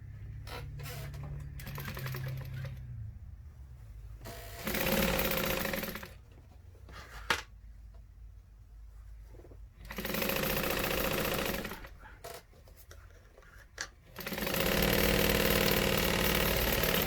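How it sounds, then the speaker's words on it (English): A sewing machine stitches a fabric bag in several close, loud bursts of rapid whirring, separated by short quiet pauses as the work is adjusted. "And sew it down."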